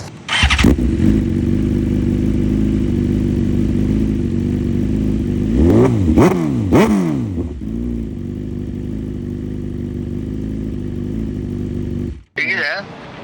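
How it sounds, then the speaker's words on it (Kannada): A BMW S1000RR M-Sport fitted with an Austin Racing full-system exhaust idles loudly up close, then snaps through several sharp revs before settling and cutting off abruptly, with a brief burst of sound after. "ಏನು ಎಕ್ಸಾಸ್ಟ್ ಇದು Austin racing full system exhaust ಹೆಂಗೆ ಕಿರ್ಚಾಡ್ತೈತೆ ಗಾಡಿ"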